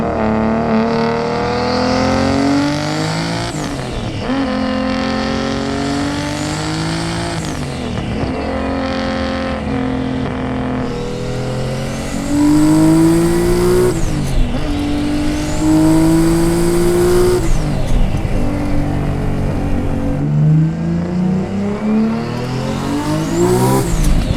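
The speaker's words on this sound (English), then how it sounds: "Car sounds different, huh?" Nissan R32 GTR with a 1400 HP turbo setup revving hard while driving, loud and close, rising through gears in repeated climbing sweeps with brief dips at shifts and turbo whine on top.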